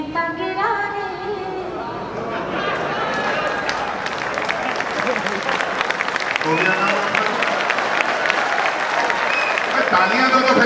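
Audience applause fills a Hindi kavi sammelan poetry gathering, a dense, steady wash of many hands clapping with crowd chatter mixed in, growing slightly louder toward the end.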